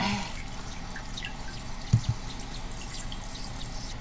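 Water trickling and dripping as it drains out of a motorhome's waste water tank, a steady low wash with a couple of louder splashy drips midway, no talking.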